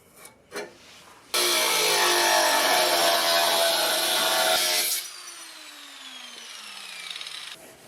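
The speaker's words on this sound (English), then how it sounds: "So I'm just going to mark it and then grind it off." A grinder cuts off a corner of a plastic bumper on a 2008 Chevy Cobalt, a loud, harsh rasping whine lasting several seconds after a couple of knocks, then the tool spins down with a falling tone.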